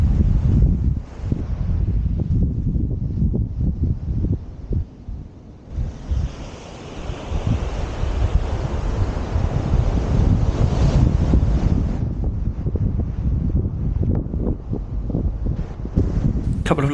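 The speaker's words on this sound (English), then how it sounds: "the odd large wave is still sending the wash quite some distance" Surf washing up a Holderness beach at Aldbrough at high tide, a continuous roar of breaking waves with a larger surge of wash swelling through the middle, mixed with wind buffeting the microphone.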